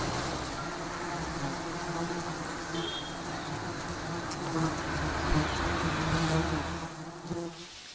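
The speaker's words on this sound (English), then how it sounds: "These giant honeybees are found all over South Asia." A swarm of giant honeybees in rural Sri Lanka makes a dense, continuous buzz that stays loud and close, rising slightly in intensity toward the end.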